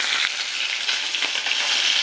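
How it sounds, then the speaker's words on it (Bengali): Fish frying in hot salted oil in a wok, a loud, dense, continuous sizzle with small crackling pops, heard close up with no voices. "মাছটাকে লাল করে ভেজে নেব"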